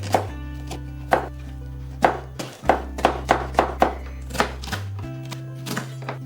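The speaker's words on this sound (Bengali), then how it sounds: "আমি এবারে বাঁধাকপিটাও ছোট ছোট করে কুচি করে নেব" A knife finely shreds cabbage on a board, with sharp, fairly even chopping thuds in quick runs and a low steady hum underneath.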